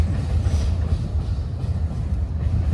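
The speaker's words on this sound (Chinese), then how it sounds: "这火车挺长的" A long train rolls past on the railway tracks near a residential area in Tianjin, heard up close as a steady, loud low rumble with continuous wheel noise and no talking.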